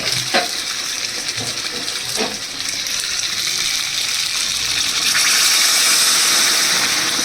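Hot water poured into chicken kosha frying in a kadai, with a gushing splash over loud, steady sizzling that swells louder toward the end, plus a few sharp clicks early on.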